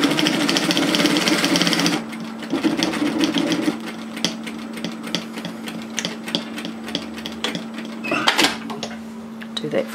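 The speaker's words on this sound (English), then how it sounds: "We're going to stitch through the notches at 1 centimetre, 3/8 of an inch from notch to notch" A home sewing machine runs a seam through the notches of a shacket, its motor a steady hum that is loud for the first two seconds and then continues more quietly, with light clicks and handling noises over it.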